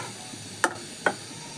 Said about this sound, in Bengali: এটা একটু ভালো করে নেড়ে চেড়ে দিচ্ছি